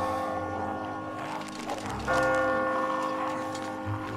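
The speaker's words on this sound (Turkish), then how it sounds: "Çanlar çaldı" Church bells ring within the video game The Walking Dead, a tolling bell with lingering resonant tones over a low ambient game soundscape, a second strike swelling louder midway.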